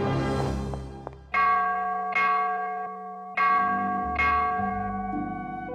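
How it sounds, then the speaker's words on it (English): Alarm bell in the Lost Sphear video game rings out in four ringing strikes about a second apart, each bright clang decaying into a long sustained hum, loud and with no talk. "Now we really gotta ring that alarm bell."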